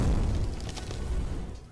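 A movie-style impact effect made by pouring sand onto a small empty suitcase and striking it with a baseball bat, heard as a dull, heavy boom with a gritty low rumble that settles briefly, with no talk.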